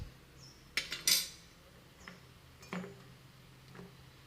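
A spoon mixes a rava unde mixture in a bowl, giving a few scattered metallic clinks and scrapes, a sharp cluster near the start and softer taps later, close and fairly quiet.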